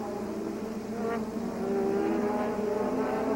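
Formula 1 cars with Renault and Ferrari engines race at the Canadian Grand Prix, a steady distant engine drone that swells slightly as the cars come nearer, with no commentary.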